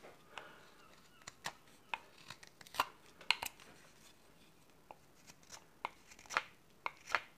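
A knife carves a spoon from moist green wood, giving a run of irregular dry scrapes and sharp slicing ticks, some spaced apart and others in quick clusters, close up and fairly quiet.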